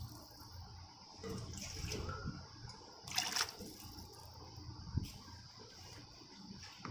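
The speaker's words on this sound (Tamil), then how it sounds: "5 காலை தண்ணி ஊற்றணும்" Water is poured into a pot of rice for Malay pandan rice, a soft trickling and splashing that swells in short bursts, quiet and close.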